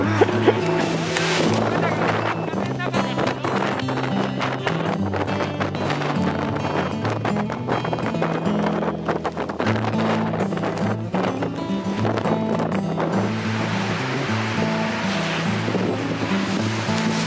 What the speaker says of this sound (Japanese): 風が強すぎます。